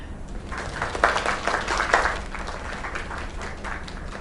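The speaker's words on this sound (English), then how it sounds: "Another round of applause." Steady applause and clapping from a crowd in the video game LAKE, moderately loud and continuous, with a thin, slightly processed quality.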